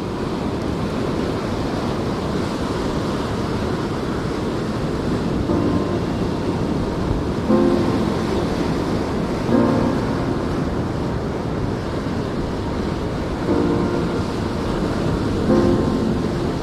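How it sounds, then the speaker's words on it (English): Waves wash steadily onto a beach at Pennington, a continuous broadband roar mixed with wind buffeting the microphone. "we're back on the beach"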